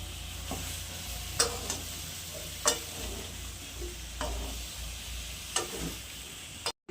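Ridge gourd being sautéed with poppy seed in a pan, a low sizzle under a few separate scraping knocks of the spatula at uneven intervals, close and moderate in volume, with no voices.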